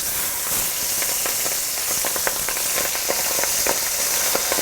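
Hot oil sizzles loudly in a pot as green onion is added, with frequent sharp pops and spatters crackling over a constant hiss.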